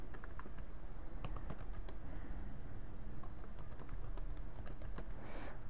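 Steady rapid typing on a computer keyboard while a resume is written, close and clear, with irregular sharp key clicks and occasional louder taps over a constant low hum, and no voices.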